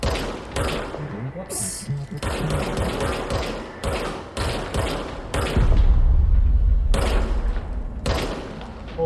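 Repeated weapon gunfire from the video game Control comes in chunky bursts and single shots with heavy low thumps, loud and punchy, as someone talks briefly between shots.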